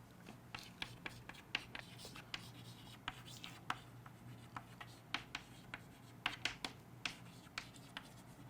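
Pen writing notes by hand, a quiet run of short scratchy strokes and taps repeating irregularly over a low steady background hum, close and faint.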